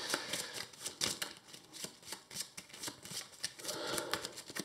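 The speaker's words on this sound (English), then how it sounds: "we shuffle this into the very, very thin encounter deck" A thin deck of cards shuffled during a tabletop session of the Marvel Champions card game, giving quick repeated riffling bursts in an uneven rhythm, close up and fairly quiet, with no voices.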